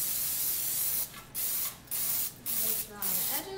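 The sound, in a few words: cooking spray sprayed into springform pan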